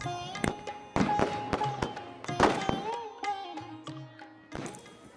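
Firecrackers burst during a Chhath Puja festival crowd in Bihar, several sharp cracks in a short burst over a busy, noisy background.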